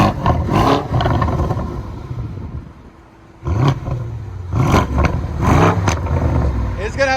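A 2019 BMW M550i with a 4.4L V8 and resonator-deleted dual exhaust, revving loudly and close in repeated deep, growling bursts, with a short dip to idle in the middle and people talking around it.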